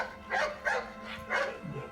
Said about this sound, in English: Barking at the cameraman, huh?